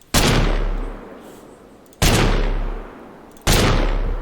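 Three loud, sharp assault rifle shots in the video game TABG, each a single heavy crack with a long decaying tail, spaced about one and a half to two seconds apart.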